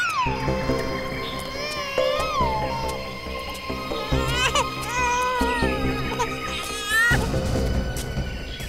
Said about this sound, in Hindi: उस तरफ से बच्चे के रोने की आवाज आ रही है